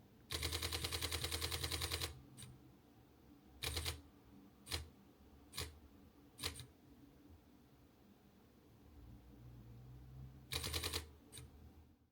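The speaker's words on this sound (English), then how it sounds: "The camera's mechanical shutter allows for continuous autofocus while shooting at 10 photos per second." OM System OM-5 mirrorless camera firing its mechanical shutter in rapid bursts at 10 frames per second: a long rattling burst of about two seconds, then several short bursts and single clicks, ending with another burst, close and crisp.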